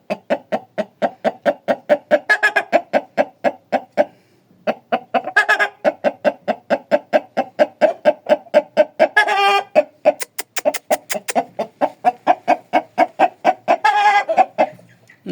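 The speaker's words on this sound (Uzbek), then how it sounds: "Yanvar jo'jasi bu." A brood of young January-hatched chicks cheeps and clucks loudly and close by in a rapid, steady, rhythmic stream of calls that barely pauses for about fifteen seconds.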